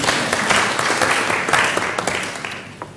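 Applause from a lecture audience, a dense wash of many hands clapping, fairly close and steady before gradually thinning out, no talk over it.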